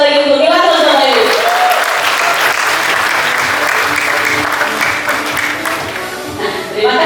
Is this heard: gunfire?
no